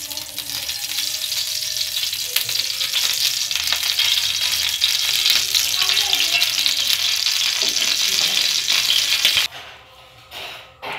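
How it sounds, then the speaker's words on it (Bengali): Rohu fish frying in soybean oil in a frying pan gives a loud, steady sizzle with light stirring rattle, cutting off abruptly near the end to quieter background. "এখন আমি ফ্রাই প্যানে পরিমাণ মতন তেল দিয়ে মাছটাকে ভালো করে ভেজে নেব।"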